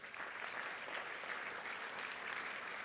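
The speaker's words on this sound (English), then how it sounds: "Give him a round of applause." An audience at a chapel service gives a round of applause, a faint, steady wash of many hands clapping together at a distance, continuing evenly from start to finish.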